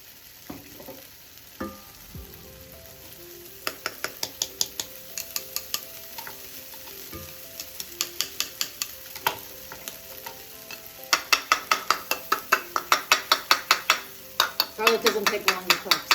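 Garlic sizzling in a little olive oil in a pan for beef and broccoli, with a steady fry under repeated sharp clinks and scrapes of a utensil stirring, the stirring growing quicker and louder toward the end.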